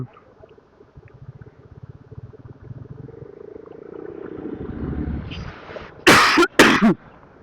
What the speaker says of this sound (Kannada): ಯಾಕೋ ಕೆಮ್ಮು ಸ್ಟಾರ್ಟ್ ಆಗೋಯ್ತು